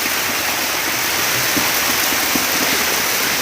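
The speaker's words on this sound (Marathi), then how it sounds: "काय मुसळधार पाऊस लागतो" Heavy monsoon rain in Konkan pours down in a loud, unbroken hiss and roar, with no let-up across the whole stretch.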